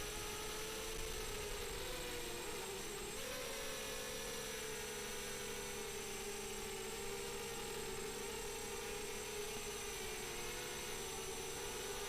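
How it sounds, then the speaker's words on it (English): A 250-size FPV racing quadcopter drone whines steadily with a high, buzzing motor tone that shifts slightly in pitch as it flies in to land, continuous and moderately close. "let's go ahead and bring her in for landing"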